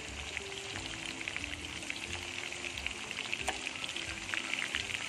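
Korameenu fish pieces fry in a pan over medium heat, a constant moderate sizzle with light crackling pops and no talking.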